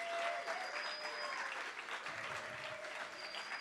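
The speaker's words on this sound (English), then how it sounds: "will you now break the hush with a massive round of applause for the brilliant Someone!" A live audience at The Bedford applauds a singer, a steady wash of clapping that holds for several seconds before easing slightly, with faint voices and whoops mixed into the crowd.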